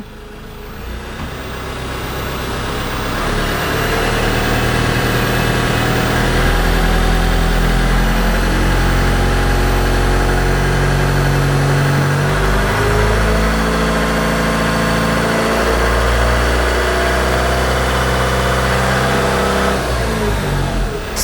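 Mazda BT-50 Pro 2.2 double-cab pickup, 2020, idles steadily and close, a loud continuous diesel rumble with slight pitch shifts and a brief dip midway, no voices over it.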